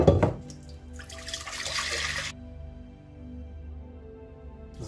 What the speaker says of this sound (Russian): добавляю недостающее количество воды